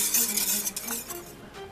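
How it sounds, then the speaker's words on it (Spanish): A utensil stirs a rompope mixture in a pot over medium heat, giving soft scraping strokes and light clinks against the metal, close and moderately loud in a short burst. "vamos a pasar la mezcla en una olla nuevamente y vamos a estar revolviendo por unos 8 minutos"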